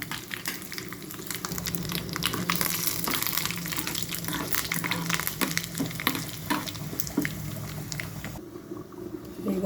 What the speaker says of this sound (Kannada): ಈಗ ಕಟ್ ಮಾಡಿ ಇಟ್ಕೊಂಡಂಥ ಬ್ಯಾಡಗಿ ಮೆಣಸನ್ನು ಹಾಕ್ಕೊಳ್ತಾ ಇದ್ದೀನಿ.